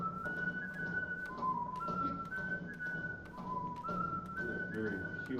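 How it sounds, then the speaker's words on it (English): A person whistling a simple, repeated melodic phrase in short rising and falling notes, moderately near, with faint background clatter and low murmuring underneath. "Very human whistling sound."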